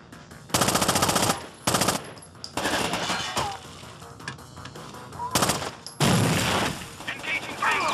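Rainbow Six: Vegas 2 gunfire comes in several loud, close bursts of rapid automatic shots separated by short pauses, over game background noise.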